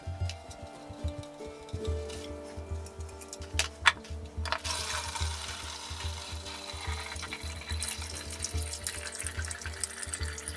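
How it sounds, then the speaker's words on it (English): Vinegar being poured out of a Coleman lantern fuel tank during rust removal, a steady splashing trickle with faint metallic clinks, fairly close and continuous, with no talking. "Okay, now I'm going to pour out the vinegar."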